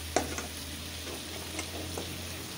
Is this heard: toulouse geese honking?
no